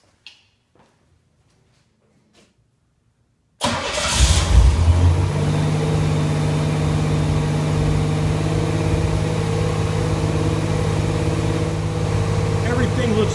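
An exotic kit car engine in a garage cranks and fires after a few seconds of near silence with faint knocks, then settles into a loud, steady running drone with a strong low hum.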